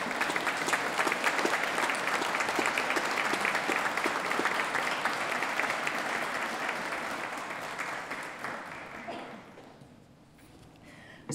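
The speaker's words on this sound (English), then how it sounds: "give their families a wave and a round of applause as a thank you" Sustained applause from graduates at a university graduation ceremony, dense and steady across the hall before thinning and fading out near the end.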